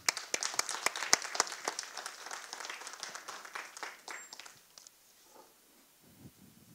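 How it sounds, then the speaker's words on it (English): A lecture audience claps together in a dense burst that gradually thins and fades out, leaving only a few scattered claps at the end. "Let's give a warm applause to Professor Bauböck."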